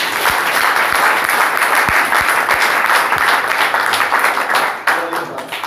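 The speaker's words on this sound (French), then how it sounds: "Applaudissions pour le Seigneur." A church congregation applauding together, loud and sustained, with a few distinct hand claps standing out near the front before the clapping thins toward the end.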